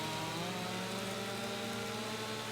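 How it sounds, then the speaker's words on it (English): An old steel chainsaw cuts into a tree in Farming Simulator 25, a continuous buzzing, strained whine held steady and fairly loud with no talk. "Looks like his old steel chainsaw's struggling a little bit."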